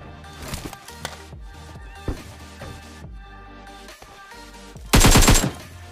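AKM rifle fire in a shooter video game while finishing off a downed enemy: several sharp shots scattered over a few seconds, then a dense loud burst near the end, with game sounds between.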